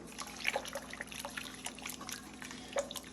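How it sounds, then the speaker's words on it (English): Liquid being whisked into a Hungarian chicken paprikash sauce, a soft close trickle and splashy dribble with faint clinks of the whisk, quiet and without talk. "We're gonna whisk this in here."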